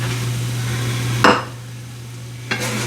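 Mixed vegetables drop into a hot frying pan for chicken fried rice, a sharp clattering burst followed by steady sizzling and a second smaller clatter near the end, with no talking.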